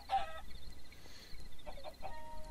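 Chicken clucks in the Minecraft game on a Skygrid server, a couple of short clucking bursts near the start and again after a pause, fairly faint over a low background hum.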